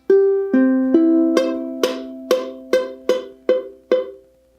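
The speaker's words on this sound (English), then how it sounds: "You don't want a buzzing sound like this." Ukulele strings plucked one at a time with poor fretting that makes them buzz: about nine separate, evenly spaced notes, each with a sharp attack and a quick decay, played close and alone.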